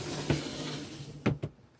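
A wide drawer pulled out of a workshop storage unit, a soft sliding hiss with a faint knock early on, then two quick close clunks near the end; quiet and close.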